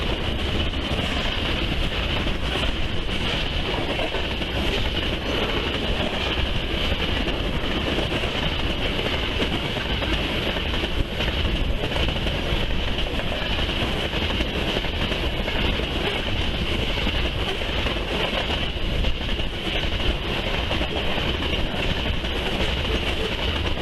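A freight train led by an SD60 locomotive rolls along the Columbia River mainline, a steady loud rumble of wheels and cars with rhythmic clickety-clack throughout, no one speaking.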